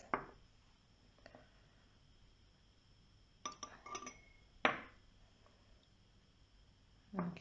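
Glassware clinks during a home science experiment mixing acid and base, a few sharp isolated taps and rattles spread out over a quiet background.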